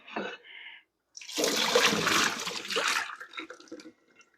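Yarn soaked in Rit dye and its liquid are poured back into a pan, giving a brief splashy gush and trickle, then dribbles that die away.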